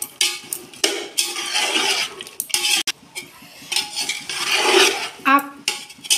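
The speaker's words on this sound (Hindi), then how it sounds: "ये मटर डाल रही हूँ मैं" Peas tipped into a metal pot for Hyderabadi vegetable biryani, a close run of clattering scrapes and stirring clinks with brief pauses, no talk over it.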